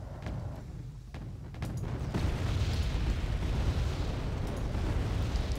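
Artillery rounds landing on Sheridan tanks in the video game Wargame Red Dragon, a heavy sustained rumble of blasts that swells louder partway through and stays dense, with no talk.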